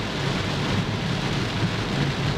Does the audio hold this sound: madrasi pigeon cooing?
no